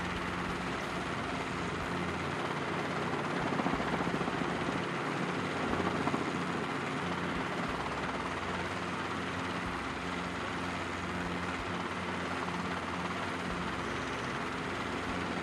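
A Robinson R22 helicopter hovers and sets down during landing practice, with a continuous near rotor and engine drone that stays steady and loud throughout, and no speech.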